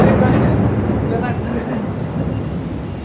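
A storm over a labour city in Qatar sends a low, rolling rumble of thunder over steady, close rainfall, loud and continuous throughout the short stretch.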